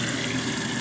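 Sink tap running water, a steady close rushing stream with even hiss and no breaks, heard alone.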